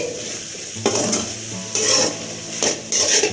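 Chickpea sundal with garam masala stirred in a pan over a high flame, with a steady sizzle broken by three bursts of spoon-scraping strokes, close and fairly loud.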